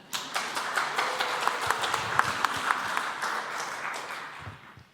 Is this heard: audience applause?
yes